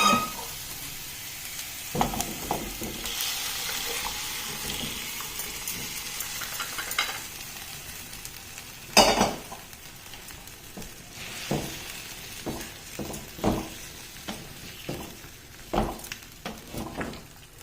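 Mutton frying in hot oil in a pot with masala, a steady sizzle broken by repeated scraping stirs of a spoon, with louder bursts as the meat is turned, close and clear.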